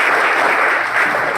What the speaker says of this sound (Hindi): तो पहले तो एक बार ताली बजा दीजिएगा